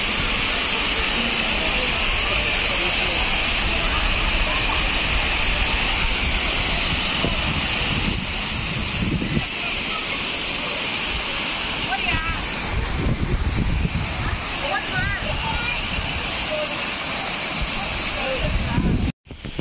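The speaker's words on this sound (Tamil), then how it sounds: "அகஸ்தியர் ஃபால்ஸ் பார்த்தாச்சு." Agasthiyar waterfall, on the route to the Agasthiyar Siddhar temple, roars as a steady, loud broadband rush of falling water throughout, with wind buffeting the microphone and low rumble underneath.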